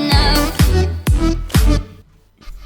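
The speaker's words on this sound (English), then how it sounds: "Without the white noise it sounds like this." Synthesized impact hits without a white noise layer, four punchy booming thumps about half a second apart with tonal, decaying tails, close and clean, followed by a fainter hit.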